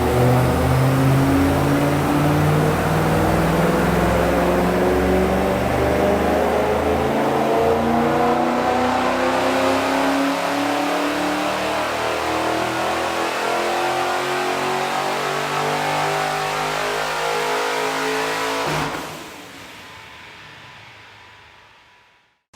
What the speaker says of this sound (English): you think we can do a rip on the dyno to see what it sounds like?